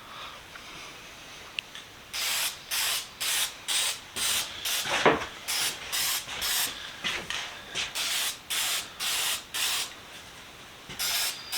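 Aerosol can spraying a coat of lacquer onto a restored Stanley Sweetheart scratch awl, a run of short hissing bursts in a quick, even rhythm, close and moderately quiet.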